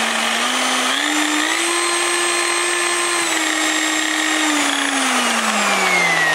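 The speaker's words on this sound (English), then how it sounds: "With this Black & Decker, you could actually lock it in at a low speed." A Black & Decker high speed car buffer polisher runs steadily alone, its loud motor whine holding a constant pitch that rises slightly, levels off, then eases lower as the speed changes.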